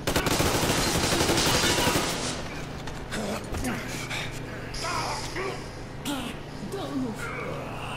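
Automatic gunfire in the video game Metro Exodus: a loud sustained burst of rapid shots, then scattered single shots and impacts, with a voice briefly audible underneath.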